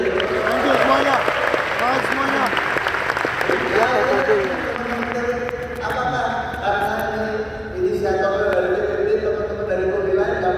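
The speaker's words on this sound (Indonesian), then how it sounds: "Tepuk tangan dulu teman-teman." An audience at an agricultural and biosystems engineering event claps steadily and fairly loudly for about ten seconds, with voices and crowd chatter mixed in and a brief dip near the end.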